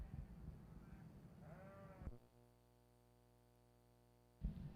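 Border Leicester sheep bleating at a livestock show: one long, drawn-out bleat with a steady tonal quaver, with a brief rising call and crowd murmur before it and the hall's noise resuming after.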